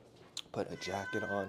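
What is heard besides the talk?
cat meowing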